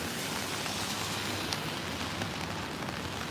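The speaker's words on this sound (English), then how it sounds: "You can see the rain coming down on the street" Steady rain falls on a Tokyo street during a typhoon, a dense, even hiss of drops that holds at a constant level throughout, with no voices.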